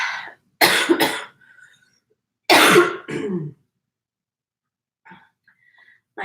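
Man coughing close by in harsh bursts: a double cough, then a longer rough cough after a pause, with faint breaths and small throat sounds trailing off between them.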